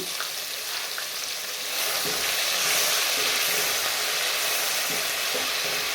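A continuous bright sizzle of paste frying in oil, with soft stirring sounds underneath, close and steady throughout.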